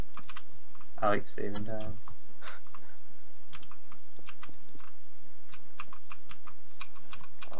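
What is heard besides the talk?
computer keyboard typing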